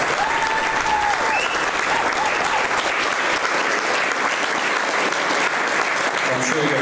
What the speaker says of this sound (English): so a big round of applause for John Burton.